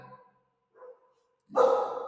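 A small dog barks at close range, with a brief louder yelp-like burst at the end after a couple of fainter earlier sounds, in an indoor room.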